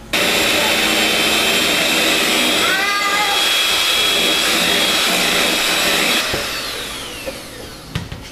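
An electric mixer whirs steadily as it blends cheesecake filling, its continuous motor whine winding down near the end, while voices talk nearby.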